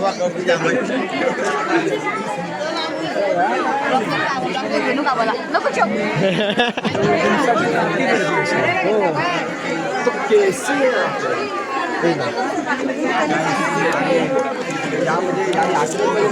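A dense, loud crowd packs the grounds of the Chirner Maghi Ganesh festival, its many overlapping voices forming a constant hubbub. Nearby people talk and call out over the babble throughout.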